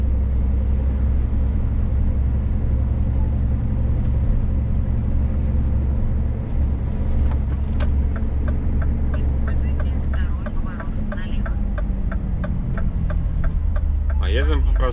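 Steady loud engine and road rumble from inside a car driving along Karl Marx Avenue in Omsk, continuous throughout with a faint voice briefly audible over the noise.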